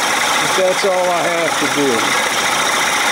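A 1979 Evinrude 55 hp outboard engine idling steadily in the background, a continuous rumbling drone under a man's nearby speech.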